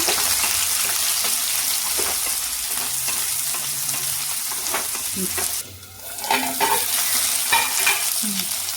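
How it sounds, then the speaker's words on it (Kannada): Garlic and onion with cumin fry in a pan for tomato chutney: a loud, continuous sizzle with repeated stirring scrapes, briefly dipping before picking up again. "ಬೆಳ್ಳುಳ್ಳಿ, ಆಮೇಲೆ ಈರುಳ್ಳಿ ಚೆನ್ನಾಗಿ ಫ್ರೈ ಮಾಡ್ಕೋಬೇಕು"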